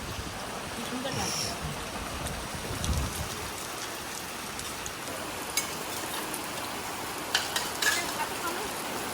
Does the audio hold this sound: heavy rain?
yes